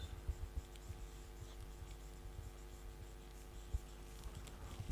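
Pen scratching on paper while a circumference formula is written out in a maths lesson, a soft, quiet run of small strokes and taps over a low background hum, with no voice.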